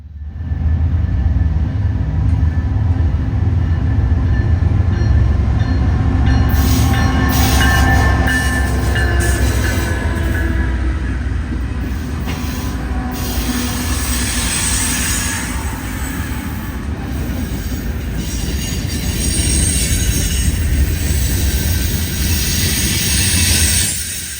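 CSX eastbound manifest train M332 rolls past near Cumberland, a loud continuous rumble of wheels and railcars with clanking and a faint squeal, close by and steady throughout.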